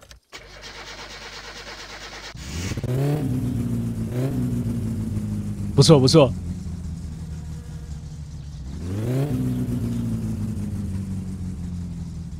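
In the game My Summer Car, a car engine cranks and catches, then idles and revs in several rising surges with a brief high whine near the middle, loud and close; a voice briefly speaks.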